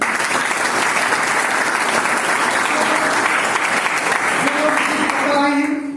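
Loud, sustained applause from a crowd honouring a respected mentor. The dense clapping runs unbroken throughout, with voices mixed in and a tonal sound rising near the end.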